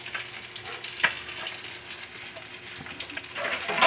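Tilapia frying in a pan, a steady soft sizzle of hot oil running throughout with a brief sharp pop near the start and the frying swelling slightly louder toward the end, no voices.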